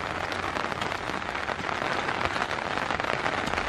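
Steady rain falling outdoors at a horse paddock, a dense, even hiss of drops close by with no voices, holding at a constant level throughout.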